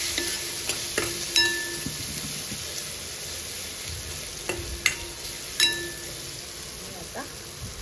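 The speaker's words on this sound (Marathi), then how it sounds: "पुन्हा हे सगळं मिश्रण छान मिक्स करून घेऊ" A cabbage and pea mixture with turmeric and cumin powder is stirred in a pan, with light sizzling under scattered spoon scrapes and clinks against the pan, fairly close and moderately quiet.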